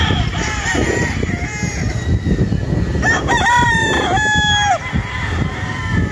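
Battlestag gamefowl roosters on a farm crow loudly and close, with one long call overlapping another, amid clucking and other farmyard fowl noise.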